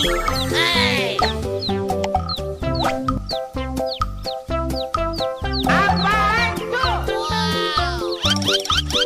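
Chicken clucks from a cartoonish children's video game about collecting rainbow chickens and ducklings, repeated short calls mixed into a bright, busy musical backing that runs continuously throughout.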